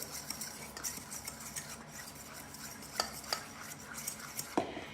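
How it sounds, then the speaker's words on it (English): A spoon mixes a tablespoon of sugar and a pinch of salt in a bowl for crepe batter, with quiet scraping and a few light clinks against the bowl, close and soft. "I have my tablespoon of sugar and a 1/4 teaspoon of salt. I'm gonna go ahead and mix these together."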